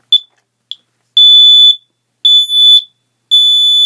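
Kidde NightHawk smoke detector horn sounding loud and close, a piercing electronic tone that opens with two short chirps and then gives three long blasts separated by brief silences.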